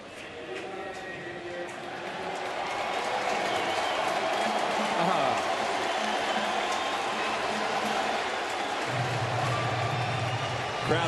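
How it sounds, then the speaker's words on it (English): A big baseball crowd at a Mets game swells into a sustained roar that builds into a rhythmic chant, loud and continuous from a distance. "Crowd responding to Eli Manning on the big board, starting a "Let's Go Mets" chant."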